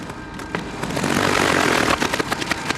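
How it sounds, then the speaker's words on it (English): A troubled fishing boat motor out on open water, its loud rough roar swelling and sputtering with irregular knocks and rattles, close and harsh, with no voices over it. "my motor starts making some horrible sounds"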